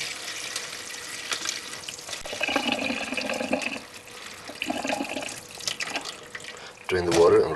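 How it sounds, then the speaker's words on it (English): About two cups of wheat grains are swished and rinsed in water, giving irregular close splashing, rattling and gurgling that rises in bursts and ends with a louder pour or rush of water. "just wash about 2 cups of wheat."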